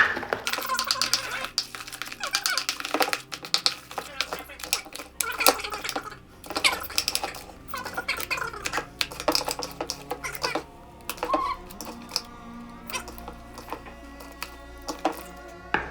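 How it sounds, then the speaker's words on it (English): A spoon clicks and scrapes around a bowl while stirring thickening slime, a busy run of irregular taps and scrapes close up, with a little talk mixed in. "you're going to want to keep mixing it until it gets quite tricky to stir"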